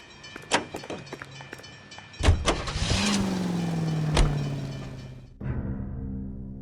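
A car in the game L.A. Noire starts up: several sharp clicks and thumps from doors, an engine catching and rising in pitch, then settling into a steady hum that changes tone near the end.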